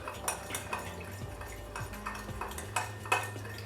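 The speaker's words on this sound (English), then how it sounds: "Just give that a light stir." A rye cocktail is stirred lightly, a bar spoon clinking and tapping against the glass in a quiet run of small, irregular metallic ticks with soft swirling between them, close and alone without talk.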